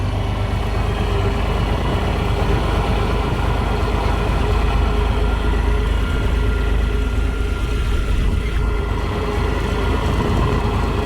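A tractor engine idles on a farm, a continuous, even low-pitched rumble that stays close and steady from start to finish with no voices.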